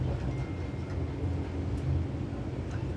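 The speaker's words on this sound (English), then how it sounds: "And as you can see, the train is departing right now." Vande Bharat Express train pulling out of Vadodara Junction, a steady low rumble of rolling carriages that holds evenly throughout, with no voices.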